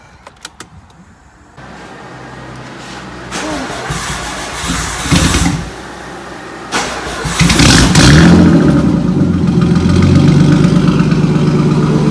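A Nissan 240SX engine with lifter noise cranks and catches, then settles into a loud steady idle with a rising rev, close by and without talking.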